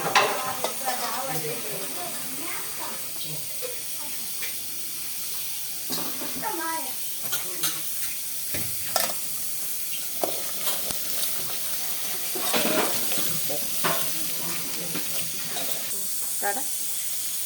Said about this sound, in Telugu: ఉల్లిగడ్డ గోలిన తర్వాత ఇంకా బెండకాయలు వేయాలి.